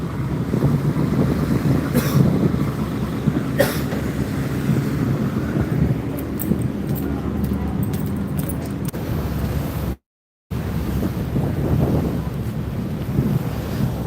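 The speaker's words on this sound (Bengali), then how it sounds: "এই ময়ূর সাত লঞ্চ ঢাকা থেকে ছেড়ে এখন চাঁদপুর উদ্দেশ্যে যাচ্ছে" A passenger launch ship on its way from Dhaka to Chandpur, heard as steady rumbling wind and water rush with a low engine drone, loud and continuous, with a short dropout near the end.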